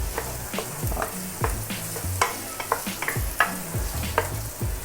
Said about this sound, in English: toss the meat around together with your garlic and your onions